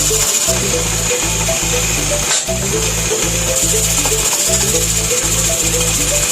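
A homemade drum sander mounted on a wood lathe runs steadily and loudly, a continuous droning whir with a rhythmic low pulsing throughout and a brief dip near the middle.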